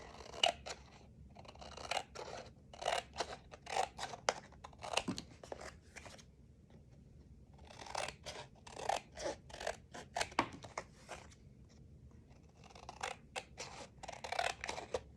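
Scissors snipping paper corners for a nature notebook album, crisp close clicks and crunchy cuts in quick clusters separated by short pauses, fairly quiet with no talk.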